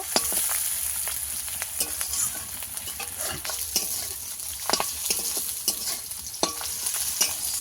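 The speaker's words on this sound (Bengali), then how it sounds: "উচ্ছেটাকে ভালো করে ভেজে নেব।" Oil sizzles and crackles steadily while bitter gourd fries in a pan, with frequent scraping stirs from a utensil throughout.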